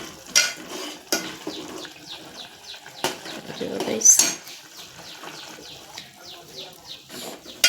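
Peanut bhajiya being stirred in a sizzling pan, with repeated sharp scrapes and clinks of a spoon against the metal over a soft frying hiss, while a person talks intermittently.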